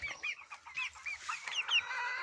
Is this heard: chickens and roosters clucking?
yes